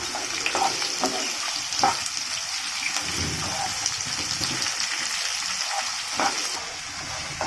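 Onion and curry leaves fry in hot oil for a bitter gourd curry, giving a steady close sizzle with occasional stirring scrapes and clinks throughout.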